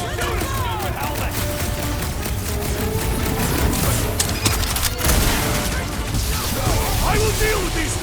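Bursts of gunfire and booms ring out through a busy combat scene in Marvel's Guardians of the Galaxy on PS5, dense and loud throughout, with voices shouting over the shooting.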